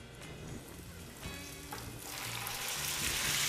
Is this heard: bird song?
no